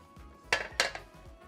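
Cooked vegetables being drained from a pot, with two sharp metallic clanks of the pot and lid close up amid quieter kitchen handling noise.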